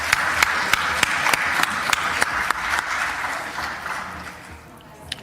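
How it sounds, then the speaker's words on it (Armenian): Applause in parliament, a room of people clapping together in a steady, fairly brisk patter with a few sharp claps standing out, holding level before thinning toward the end. "Առաջարկում եմ ծափահարենք։"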